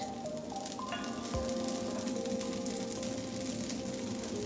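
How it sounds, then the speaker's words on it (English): Mutton shami kebabs sizzle steadily in hot oil in a home kitchen, a continuous close crackle and hiss with a brief clink partway through and faint tonal hum beneath. "now we will allow it to cook on one side, and in the meantime we will add some more oil on the shamis"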